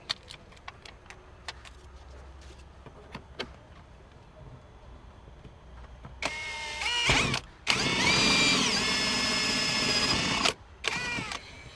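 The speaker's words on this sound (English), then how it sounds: "grab your 22mm hole saw" A few light clicks and taps, then a power drill whines loudly in bursts as a 22mm hole saw cuts through plastic, stopping and restarting.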